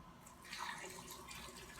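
Water poured into a homemade raw vegan salad dressing of coconut aminos, a soft steady trickle and splash running throughout at low volume, with no talk.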